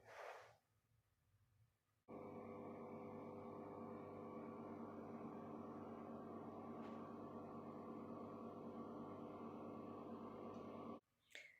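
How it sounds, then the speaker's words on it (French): A microwave oven warming milk for bread dough: a steady, even electric hum that starts abruptly and runs for about nine seconds before cutting off, fairly quiet, with no speech. "Donc je vais le passer quelques secondes au micro-ondes."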